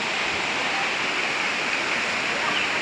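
Tundol River running high after a storm, a steady, dense rush of flowing water that holds constant and close throughout without breaks.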